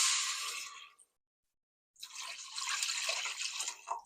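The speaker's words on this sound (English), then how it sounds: "And now let's add 3 cups of water." Water pours into a cooking pot for Czech potato goulash in a steady splashing burst, breaks off for a moment, then resumes with louder, bubbling pouring close to the microphone.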